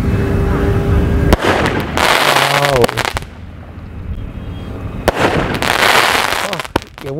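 Ravindras brand 12-shot Sunday Magic aerial fireworks bursting outdoors: loud booming bursts with crackling, whistling tails in two clusters, first around one to three seconds and again from about five seconds, with quieter rumbling between.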